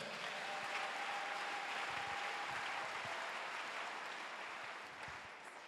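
A church congregation claps and cheers together in a sustained, even wave of applause that fills the room and slowly fades near the end.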